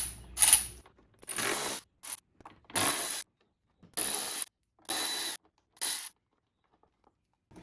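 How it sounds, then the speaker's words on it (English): Ratchet wrench undoing four T20 bolts on car air ducting during an oil cooler install, heard as several short separate bursts of clicking with pauses between them. "we're gonna remove the ducting that's just held on by 4 T20 bolts."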